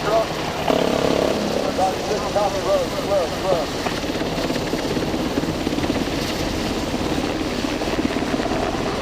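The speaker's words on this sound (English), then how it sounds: "the helicopter assault force will execute a fast rope infiltration onto the yacht" A military helicopter roars loud and steady overhead during a special forces fast-rope assault on a yacht at a demonstration event, its rotor and engine noise continuous throughout with brief chirping sounds early on.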